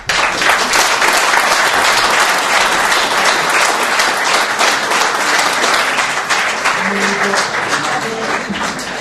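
An audience applauds after a talk at a civic event in Treviso, sustained dense clapping throughout, with faint voices rising underneath toward the end.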